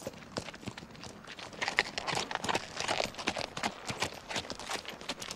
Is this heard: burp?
no